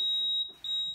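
Smoke alarm with a low battery chirping inside an abandoned house: a loud, steady, piercing high tone sounding almost continuously, dipping briefly once before resuming.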